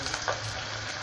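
Vegetable manchurian balls deep frying in hot oil in a kadhai over medium heat, a steady close sizzling hiss with a brief bubbling burst, no talking.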